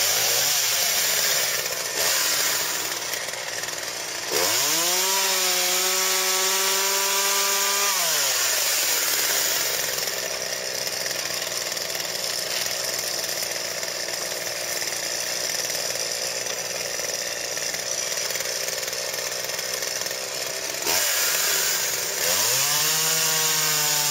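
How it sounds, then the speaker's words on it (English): A running chainsaw fitted with a PowerSharp sharpener on its bar revs up loudly and grinds its chain, the engine rising and falling in pitch across a long steady roar, close by, with no talking. "Restart the saw and then grind for 5 seconds."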